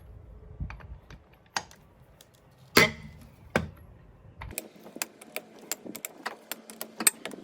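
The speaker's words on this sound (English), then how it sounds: "With the van still on the ground, I'm just going to loosen the wheel nuts off." Wheel nuts being loosened on a Ford Transit van still resting on the ground: sharp metallic clicks and knocks, then a run of quick ratchet-like ticks, close and fairly quiet, with no talk.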